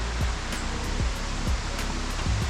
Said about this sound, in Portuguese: E aqui é a cachoeira do Escorrega.